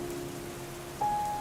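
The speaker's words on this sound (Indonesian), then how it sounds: "Mengapa suara hujan terdengar seperti nyanyian lembut?" Rain patters steadily on a surface, a soft continuous hiss with scattered drops, joined near the end by a faint sustained tone.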